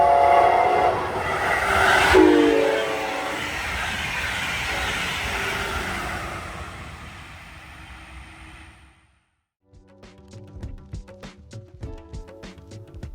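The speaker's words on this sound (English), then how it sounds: "The Brightline Red Bull wrap was hot on its tail, preparing to overtake 103 on the other track" A Brightline passenger train rushes past on the track, a loud sustained roar with a horn blast near the start, fading out before a lighter clatter of wheels over rail joints rises again.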